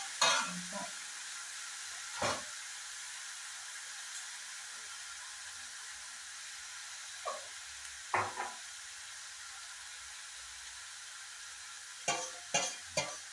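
Spinach curry being stirred in a pan, a soft background sizzle with scattered scraping and clinking strokes of the spoon, some single and some in quick clusters, with no voices.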